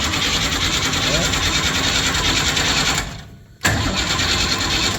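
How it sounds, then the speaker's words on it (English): A big-block V8 in a 1959 GMC truck cranks over on the starter, a loud, steady mechanical churn that cuts out briefly and then resumes, with a voice speaking over it. "just crank it over to see what we have"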